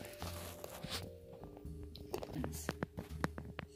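A dog crunches a cookie in short, sharp bursts of chewing, close and fairly loud, while people talk and murmur nearby throughout.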